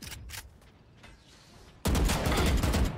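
Shotgun blasts in the shooter game Valorant: quiet footsteps and faint game ambience, then a sudden loud burst of heavy gunfire that holds for about a second before dropping away.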